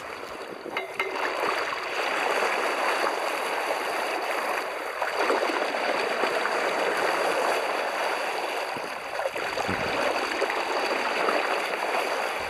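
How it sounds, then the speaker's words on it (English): Small boat drifting slowly along the coast of Ireland, water gurgling and washing steadily against the hull, continuous and fairly soft, with no voices. "So we're just trickling through the water now"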